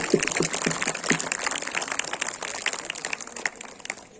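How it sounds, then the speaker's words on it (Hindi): Applause for a teacher at a KVS Foundation Day event: a crowd claps loudly, starting with a few distinct hand-claps and quickly filling into steady, dense clapping that tapers slightly near the end. "एक बार जोरदार तालियां मैम के लिए।"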